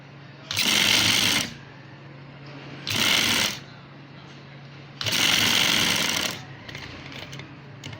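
A sewing machine stitches a gents salwar pocket in three close, loud bursts of rapid whirring, separated by short pauses, with quieter talk between the runs.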